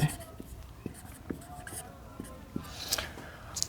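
A pen or chalk scratches out a seventh-grade math solution in short, irregular close strokes, faint taps and scrapes running beneath soft, low speech.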